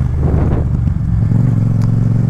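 A Yamaha MT-07 motorcycle engine revs up loudly and close as it accelerates through the gears, the pitch rising then dropping as it settles into a steady throbbing idle.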